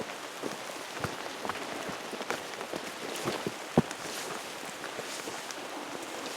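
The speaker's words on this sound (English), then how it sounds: "in fact, it's raining right now" Steady rain patters on surfaces nearby in rainforest-like woods at Troublesome Creek, Denali State Park, with scattered louder drips and drops over a soft continuous hiss.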